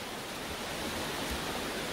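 The Diamante river flows nearby as a dense, constant hiss and rush of water, steady and fairly loud throughout with no other sounds.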